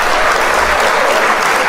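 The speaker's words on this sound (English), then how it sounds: "Round of applause." A round of applause from a crowd celebrating someone: loud, dense, continuous clapping filling the whole moment, close and sustained, with no talking.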